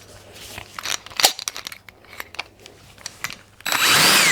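A slightly larger bit drills out the remains of a pin in a lathe compound slide handwheel, cutting in short, uneven grinding bursts that end in a steady, loud whine of the drill.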